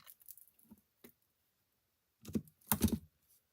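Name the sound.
trimming the end of a bow on a card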